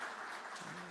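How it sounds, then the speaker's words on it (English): Congregation applause at a Unitarian Universalist church service, a steady dense wash of clapping lasting about a second, fairly faint and even throughout with no voices. "Give yourself a round of applause,"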